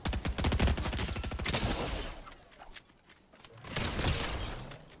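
Rapid automatic gunfire from a video game crackles in dense bursts, loud and close at the start, then fading into a lull before another burst of shots.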